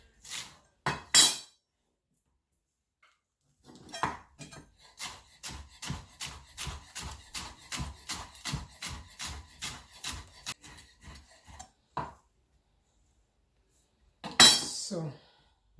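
Baby spinach being sliced with a knife on a board as a garnish, a steady run of quick, even chopping taps close by, set between a few louder knocks and clatters at the start and end.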